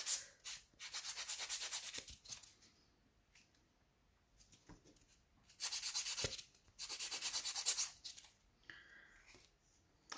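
Nail tips being filed with a 180 grit nail file, quiet rasping strokes in bursts of a second or two, separated by short pauses, close up with no talking.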